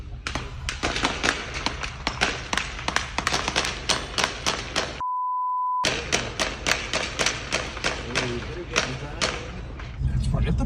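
A barrage of gunfire at a Border Patrol station, dozens of rapid sharp shots cracking in quick uneven bursts, briefly cut by a steady tone before the volley resumes, with a low thump near the end.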